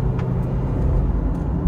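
A front-wheel-drive car at an auto auction accelerates with power, giving a steady, close, low engine rumble throughout with no talk.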